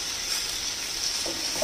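Fried pointed gourd being stirred into a shrimp masala in a hot pan gives a soft, steady hiss of sizzling oil, faint and continuous, with a few light scrapes near the end.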